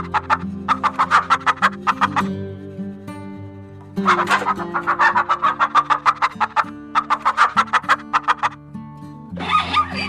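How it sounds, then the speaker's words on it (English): A hen clucks in rapid bursts of short, sharp clucks separated by brief pauses, loud and close over a continuous musical backing. "This is hen."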